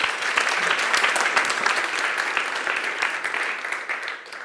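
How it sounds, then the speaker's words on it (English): Sustained audience applause fills a deep learning meetup room in Vienna, dense steady clapping close and loud throughout before tapering slightly at the end, with no talking over it. "big applause for Yufeng."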